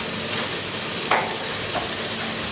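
Vegetables browning in a hot pan with fat, giving a steady broadband sizzle with a couple of brief stirring scrapes, close and continuous.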